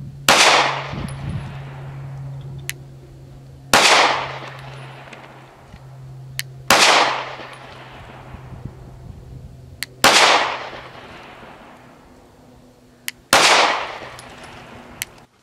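Five sharp pistol shots from an Arex Delta M Gen 2 Tactical Compact, loud and evenly spaced about three seconds apart, each cracking hard and then ringing off with a long decaying tail outdoors.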